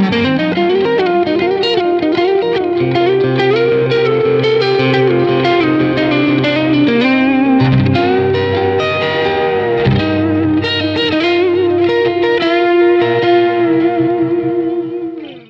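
Mayones Regius 6 electric guitar fitted with Juggernaut pickups plays through a loud mid-gain distorted tone with reverb, chorus and echo, sustained chords and melodic notes ringing continuously for about fifteen seconds without any talk.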